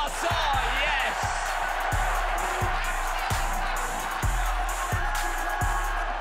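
A sellout basketball arena crowd roars steadily at a close quarter-final game, with a rhythmic thumping beat pounding through the constant cheering.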